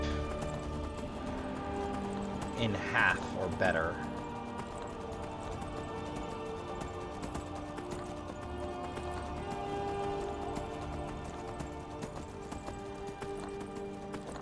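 Steady rhythmic hoofbeats of a galloping horse in the video game Skyrim continue throughout at moderate volume, with someone briefly talking early on.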